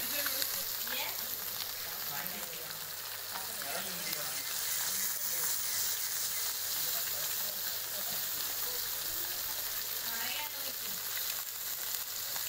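Fish fries in plenty of oil for a village-style Tamil fish fry, giving a dense, continuous crackling sizzle that stays loud and even throughout.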